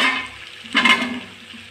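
Cut potatoes hit half-cooked meat frying in oil, setting off a sudden loud sizzling burst midway that eases into a steady hiss.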